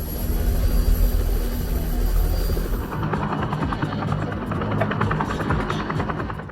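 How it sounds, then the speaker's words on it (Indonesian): A film helicopter follows overhead. Its dense rotor and engine roar is loud for the first few seconds, then gives way to a thinner, pulsing rumble that continues to the end. "menyadari ada helikopter yang mengikuti"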